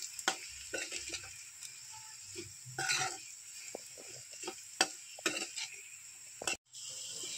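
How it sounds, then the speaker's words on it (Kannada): Spoon or spatula stirring potatoes with garam masala, chili powder and salt in a pan for an aloo dry fry, giving quiet scraping strokes and soft intermittent clinks at close range, with no talk. "ಗರಂ ಮಸಾಲ ಪುಡಿ ಹಾಗೂ ರುಚಿಗೆ ತಕ್ಕಷ್ಟು ಉಪ್ಪನ್ನು ಹಾಕಿ ಚೆನ್ನಾಗಿ ಮಿಕ್ಸ್ ಮಾಡಿಕೊಳ್ಳೋಣ"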